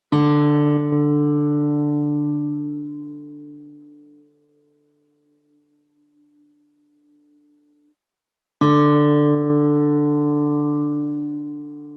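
Two ringing guitar chords, each struck once and left to fade slowly, with a stretch of near silence between them.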